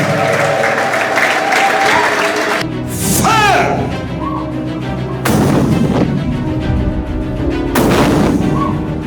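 A church congregation breaks into bursts of loud applause and ululation, with loud crowd noise rising in three surges separated by shorter lulls.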